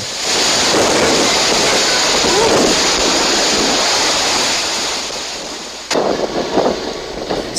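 Rough surf roars continuously with gusting wind buffeting the microphone, a dense, churning wash of water and air, as Typhoon Yolanda's raging storm waves strike Roxas City, Capiz.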